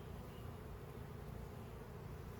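Dense, steady buzzing of many honey bees at close range during an early May hive inspection, an unbroken low drone running throughout with no talk.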